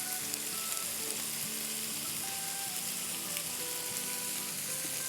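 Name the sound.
yogurt and tomato puree sizzling in tawa pulao masala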